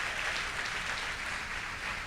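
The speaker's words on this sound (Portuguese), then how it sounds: "Vamos aplaudir o Senhor Jesus?" A church congregation applauding during a service, a steady wash of hand claps heard at moderate distance, continuous and even throughout with no voices rising above it.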